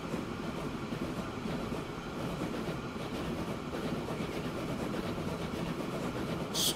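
A steam-era locomotive, the General, runs in the Transport Fever 2 video game with a steady, moderate rolling rumble and faint clickety-clack of wheels over rails throughout, with no talking.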